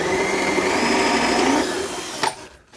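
Drill countersinking a screw hole while building a P-51 pedal plane kit, a steady close motor whine that winds down after a couple of seconds, ending with a brief knock.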